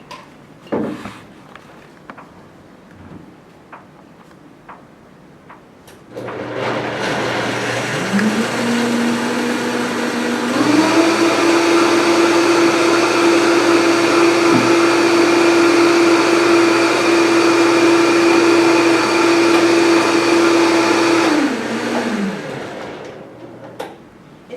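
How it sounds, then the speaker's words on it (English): A blender whirs loudly while mixing an almond milk smoothie, spinning up after a quiet start, rising in pitch, then running steadily for about fifteen seconds before stopping. "And so you just put everything in the blender."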